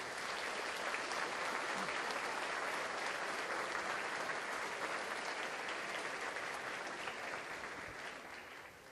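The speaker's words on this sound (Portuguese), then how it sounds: "Você pode dar uma salva de palmas para esse Deus que você serve?" A congregation in church gives a long, sustained round of applause, a thick, steady roar of clapping that carries on for nearly nine seconds before easing slightly at the end.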